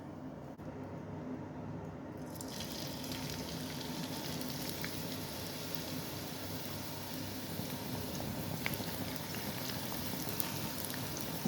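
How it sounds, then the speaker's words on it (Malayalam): Four medium chopped onions frying in oil over high flame, giving a steady, even sizzle throughout that rises in brightness after the first couple of seconds, with no talk. "അത് നമുക്ക് ഈ എണ്ണയിൽ വറുത്തെടുക്കണം."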